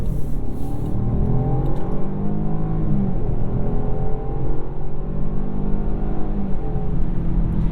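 A 2021 Jaguar XF in comfort mode accelerates hard, its engine a loud, continuous drone rising in pitch with slightly sluggish gear changes, heard from inside the car with no talking.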